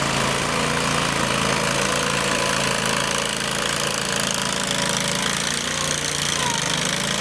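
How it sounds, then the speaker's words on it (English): The industrial Kohler gas engine of a 2005 Allmand Bros TLB325 tractor loader backhoe idles with a steady, rapid knocking chug, loud and close, running evenly without anyone speaking. "It's got an industrial Kohler engine in it."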